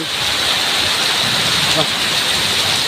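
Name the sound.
heavy rain and strong wind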